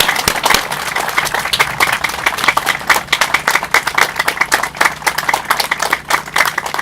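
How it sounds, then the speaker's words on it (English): Loud, close applause from an audience at the Cole bike and pedestrian bridge event in Logansport, rapid and dense clapping that runs steadily and vigorously throughout. "can we give her a round of applause as she comes to the podium"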